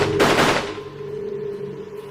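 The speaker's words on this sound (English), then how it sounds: "As the first shots ring out," Gunshots in a rebel ambush on an army patrol: a sudden loud burst of rapid fire in the first half-second, then a fading ringing tail over low rumble.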